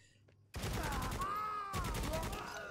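Gunfire in the video game Necromunda: Hired Gun, a sudden loud volley of rapid automatic shots that keeps going through the whole stretch, with whining electric tones layered over it.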